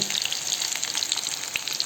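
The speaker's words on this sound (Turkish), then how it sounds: "Şu cızıltıyı size yakından dinleteyim istiyorum." Cauliflower fries in hot oil in a pan, giving a close, steady, crackling sizzle with dense popping and no talk.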